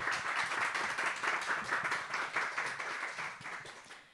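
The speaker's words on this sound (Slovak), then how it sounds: "Ale poprosím vás ešte predtým potlesk pre Alexandru Hrehovú" Audience applause for Alexandra Hrehová at a Slovak talk on gender-sensitive language, a steady patter of many hands clapping at moderate distance, tapering off near the end.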